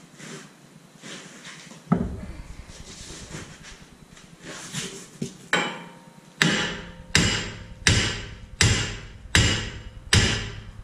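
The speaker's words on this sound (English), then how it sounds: "so that I can hit this and get it to break loose from the steering knuckle" Hammer striking a steel part to free it from an aluminum steering knuckle on a Ford Five Hundred, Freestyle or Mercury Montego, first scraping and clanks, then six loud evenly spaced ringing metallic blows close by.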